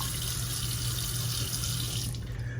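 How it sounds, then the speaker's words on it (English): A faucet runs steadily at a kitchen or bathroom sink for rinsing a FlexSeries electric shaver, a close continuous hiss of flowing water that cuts off abruptly near the end. "I'm going to start by running water"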